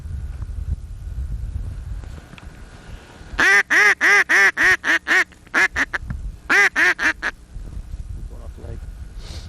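Loud run of duck quacks, about a dozen sharp calls in two close bursts, rising over wind rumble on a lake during a hunt in Deer Creek, Ohio; someone talks before and after the quacking.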